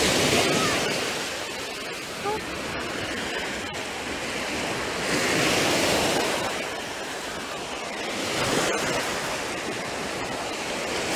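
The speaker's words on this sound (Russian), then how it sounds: "Очень красиво волны." Sea waves rolling onto a crowded Odessa beach on a summer day, a steady broadband wash of surf with gentle swells and lulls, heard at moderate level without talk.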